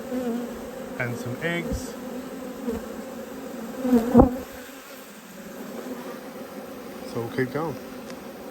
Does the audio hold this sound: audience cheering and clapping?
no